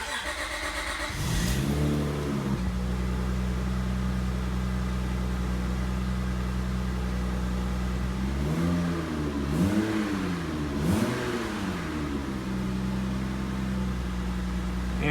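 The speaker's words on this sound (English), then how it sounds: "we're gonna start the car." A 2002 Acura TL-S engine cranks and catches, then settles into a steady idle. Partway through it is revved a few times, rising and falling before returning to a smooth, even idle heard close up.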